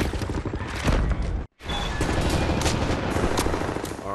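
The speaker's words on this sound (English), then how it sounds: "Right, lads, you ready to lay down suppressor fire?" Dense suppressing gunfire and explosions in Wolfenstein: The New Order, a loud, continuous battle din with rapid bursts that cut out briefly before surging back.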